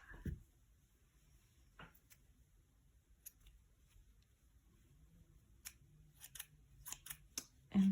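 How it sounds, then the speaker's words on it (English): Scissors trimming yarn tails on a pom pom earring, a few faint, crisp snips scattered among quiet handling sounds at close range. "Trim off the little tails."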